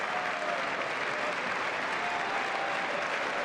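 Loud, steady applause from a large crowd, continuous and dense throughout with no pauses.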